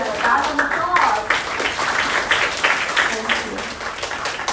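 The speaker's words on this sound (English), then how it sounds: "Let's give these braves Gryffindor together a round of applause." An audience at a speech competition claps steadily throughout, a dense, continuous patter of many hands at a consistent level, with a voice faintly audible underneath.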